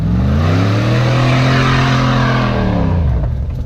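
Lada Niva off-road car engine revving hard at an obstacle, a loud close continuous roar with rising and falling pitch as it accelerates, no voices.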